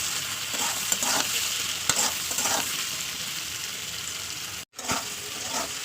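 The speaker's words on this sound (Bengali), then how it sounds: "দিয়ে ভালো করে আমি কষাবো তেলের উপরে" Potatoes sautéing in oil with salt, turmeric and chili powder make a continuous bright sizzle, broken by repeated stirring scrapes and one brief dropout near the end.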